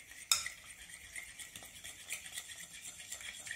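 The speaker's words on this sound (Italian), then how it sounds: "aggiungiamo tutta la panna e continuiamo ad amalgamare" Cream being stirred into a carbonara mixture in a bowl: soft, quiet, close swishing and mixing with one light utensil tap near the start, no talk.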